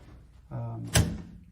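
A vinyl sliding door rolls along its track with a smooth, steady rumble lasting about half a second, then stops with a close, solid thunk as it reaches the end.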